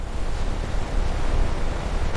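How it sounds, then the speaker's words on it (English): Tidal water driven by 11-metre tides rushing through ancient gorges in the Kimberley, Australia: a loud, continuous broadband roar of surging water, steady and close, with no voices. "11-metre tides force water through ancient gorges."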